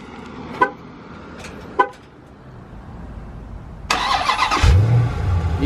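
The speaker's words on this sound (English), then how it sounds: "nice and quiet rumble" A 2019 Dodge Challenger Scat Pack Widebody V8 cranks and fires after a few short dashboard chimes, then settles into a deep, steady low rumble heard up close.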